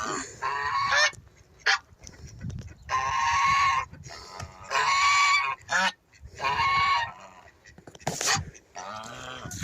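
Guinea fowl calling loudly on a farm in repeated harsh, honking bursts with short gaps between, close by, and a few faint voices in the background.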